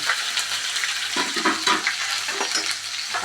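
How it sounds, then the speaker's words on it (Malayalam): Mustard seeds, curry leaves, green chillies, ginger and garlic fry in three tablespoons of hot oil for a pickle, giving a continuous close sizzle with crackles and stirring scrapes. "അതിൽ 3 ടേബിൾ സ്പൂൺ എണ്ണ വിറ്റിണ്ട്. അതിൽ കടുക് ഇട്ടു, വേപ്പില, 3 പച്ചമുളക്, ഇഞ്ചി,"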